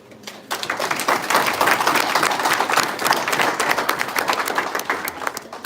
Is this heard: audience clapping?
yes